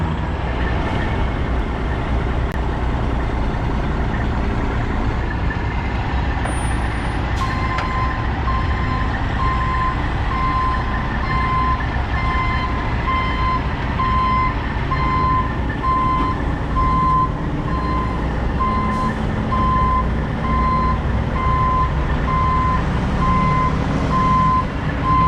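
A tow truck sounds steady reversing beeps over a continuous low engine rumble while lifting and towing a Fleetwood RV headed for transmission repair, with no talk.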